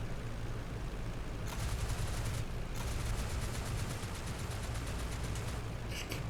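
Rapid machine gun bursts from a WWI fighter plane in the IL-2 Great Battles flight game, chattering in two long strings over a steady low engine drone, with a brief pause between them.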